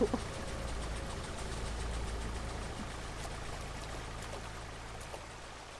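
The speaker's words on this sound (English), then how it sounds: "Nice water pump sounds" A water pump in the game Rust runs with a faint, low mechanical hum under a steady rush and trickle of flowing water, even and continuous with a brief knock at the start.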